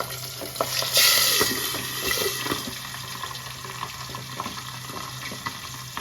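Boal fish frying in hot oil in a pan gives a steady, fairly quiet crackle and spatter of bubbling oil, with a brief louder hiss early on and no voices.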